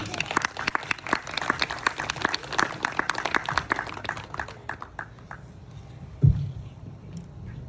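Wedding ceremony guests applaud the couple in a dense burst of clapping that fades gradually over several seconds, ending with a single loud thump.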